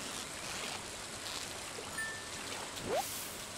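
Rain falling in the video game Stardew Valley, a steady, soft hiss of rainfall with a faint chime and a brief swoosh near the end.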